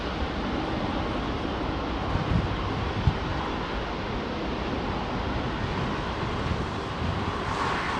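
A departing aircraft at London Heathrow rumbles as a broad, steady roar buried in heavy gusting wind, constant and fairly loud throughout with no clear rise or fall.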